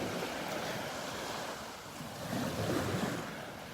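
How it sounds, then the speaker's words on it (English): Ocean waves wash steadily onto a shore in the morning, a continuous broadband roar that swells louder toward the end, with some wind noise on the microphone and no voices. "Still beautiful though, listening to the waves."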